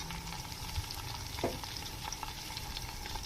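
Cumin seeds with curry leaves, black cardamom, black peppercorns, cloves and cinnamon frying in hot oil give off a steady close sizzle, with a couple of faint stirring clinks.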